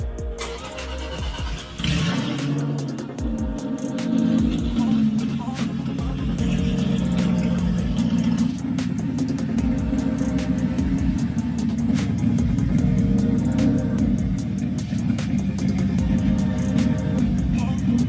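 A restored Aston Martin sets off on its first test drive, its engine starting and then running steadily with a low, continuous rumble that lasts throughout, loud and close, with faint revving swells.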